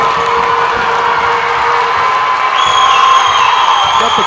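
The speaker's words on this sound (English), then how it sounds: "Got the crowd fired up." Basketball crowd cheering and whooping after a slam dunk in a Cooter vs. Holcomb game, a loud, dense roar filling the whole moment with shrill whistles and shouts rising near the end.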